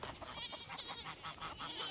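Goats bleat repeatedly in a quick series of short calls, fairly close, as they come running through the rain at a farm.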